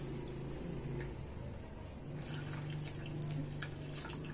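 Water runs steadily into a homemade dish soap mixture made with Texapón and salt, a constant close pouring and splashing sound with no talk.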